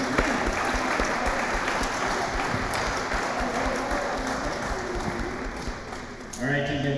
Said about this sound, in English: please take a step forward and accept a round of applause